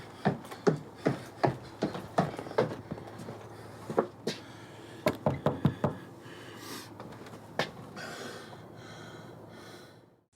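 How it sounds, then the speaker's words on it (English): Sharp knocks on a wooden house door in a found-footage horror film, coming in uneven clusters of raps with short pauses between, fairly close and clear with no talking. "he knocks on the door"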